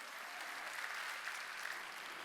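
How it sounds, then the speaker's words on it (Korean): A church congregation claps at a Wednesday worship service, a faint, even wash of applause that holds steady for a couple of seconds. "박수로 하나님께 영광을 돌려야 된다"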